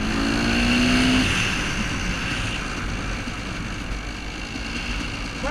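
A 1990 Yamaha YZ250WR dirt bike engine runs nearby with a steady, throaty rumble, revving slightly at first before settling into an even idle.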